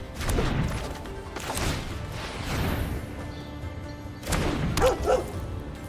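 Dog barking effect from the Magic: The Gathering Arena digital card game, a few short bark-like bursts spaced apart over a steady game soundscape, with no talk.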